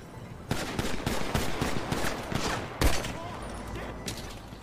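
Rapid bursts of video game gunfire crackle continuously and loudly, with one heavier shot standing out, while players talk excitedly in French over the shooting.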